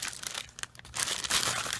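Paperwork and a warranty card from a Samlite rechargeable LED lantern flashlight box being handled close up, with crisp paper crinkling and rustling in uneven bursts that grow denser and louder toward the end.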